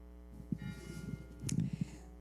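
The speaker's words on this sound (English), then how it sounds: "We ring this bell and we light this candle" A church service bell rung to open a Sunday service, a few soft rings in a quiet hall over a steady low hum.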